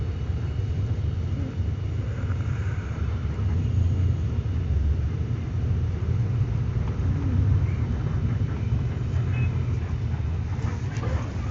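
ALS 081 intercity bus rolling into Serang bus terminal, a steady low engine rumble and road noise from inside the cabin, continuous and fairly loud with faint terminal sounds around.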